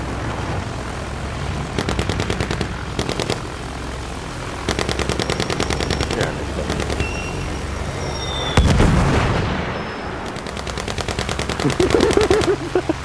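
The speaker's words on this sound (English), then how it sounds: "Oh jeez, what is shooting at us today?" Battlefield 1 battle: repeated bursts of automatic gunfire, distant explosions and a heavy boom, with a brief aircraft-like whine, layered over a constant battlefield rumble.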